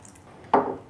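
Cloudy rice-starch rinse water poured from a bowl through a strainer into another bowl, a sudden close splashing gush that starts midway and trails off quickly.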